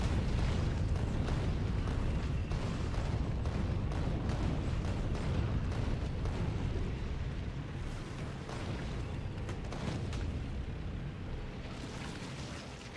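Flamethrower roaring in Factorio: a continuous, loud, rushing blast of fire with crackling bursts and booms layered through it, sustained for many seconds and easing slightly toward the end.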